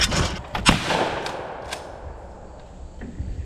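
One loud, close shotgun blast during trap shooting at clay targets with Walmart ammo rings out near the start and echoes off into open air, followed by faint handling sounds.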